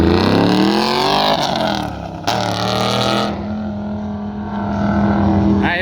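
A pro touring truck runs an autocross lap, its engine droning loudly and rising and falling in pitch as it accelerates and shifts through the course, heard continuously without talk.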